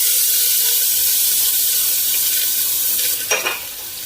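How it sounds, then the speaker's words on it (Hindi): Chopped onion sizzling in hot oil in a home kitchen pan for a Sindhi-style guar bean dish, a steady broadband frying hiss throughout with a brief louder burst of stirring near the end, no talk. "अभी तेल गरम हो चुका है। अभी थोड़ा सा प्याज इसमें पड़ेगा, ये डाल देती हूँ।"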